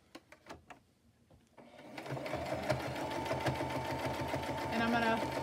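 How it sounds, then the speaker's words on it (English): Sewing machine running a straight stitch, starting with a few separate clicks and knocks, then a steady, close, rapid mechanical whirr that holds to the end. "I'm going to turn it around and go back with a straight stitch."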